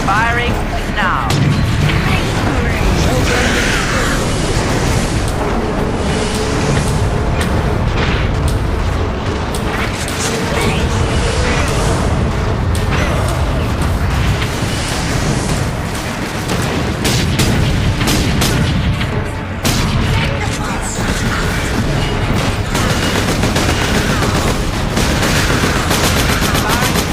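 Dense, continuous gunfire and heavy booms from weapons in the Space Marine game on PS3, with rapid bursts layered over rumbling explosions throughout and voices occasionally heard in the mix.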